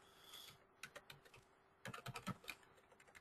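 Bursts of quick, light clicks come from a computer keyboard being typed on, arriving in irregular flurries with short pauses between them, quiet and close, with no talking.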